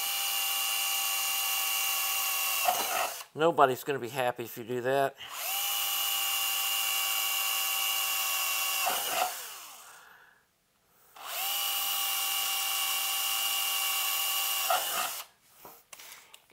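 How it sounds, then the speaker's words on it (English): A high-pitched power drill whines steadily in long bursts while drilling a hole in a metal chassis, stepping up through bit sizes, spinning down between runs, with a brief stretch of talking in the middle. "we're going to slowly go up a drill size and a drill size and a drill size until we have the hole drilled"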